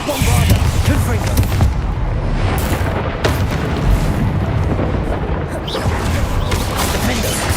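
Bombarda and Confringo spells explode in a fight in the Hogwarts Legacy game, producing dense, loud, continuous booms and crackling blasts that run throughout, with voices mixed into the din.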